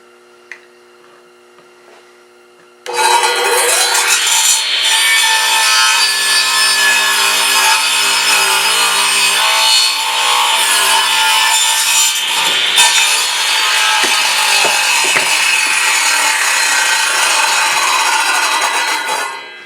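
A saw cuts through a wooden guitar neck blank, starting abruptly after a quiet moment and running as a loud, continuous harsh rasping buzz for about seventeen seconds before tapering off at the end.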